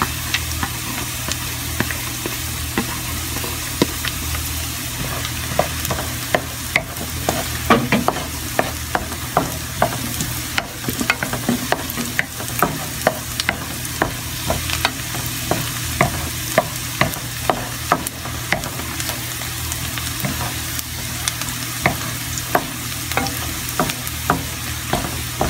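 Garlic sizzles in a pan while being stirred for a chicken macaroni soup, a steady frying hiss punctuated by frequent sharp spoon scrapes and taps over a low background hum, with no talk.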